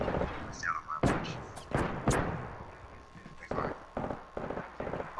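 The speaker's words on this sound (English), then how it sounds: "Why are you shooting me?" Bursts of gunfire from the Apex Legends video game crack out in quick clusters, several sharp shots early and a few more spaced reports later, mixed with game effects and a voice talking over the fight.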